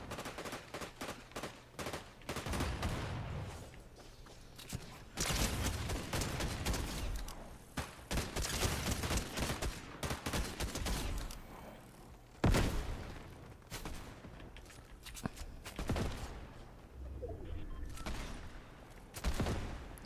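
Rapid bursts of video game gunfire crackle almost nonstop for twenty seconds, dense loud volleys with brief gaps and a few sharper, heavier cracks standing out, with no talking.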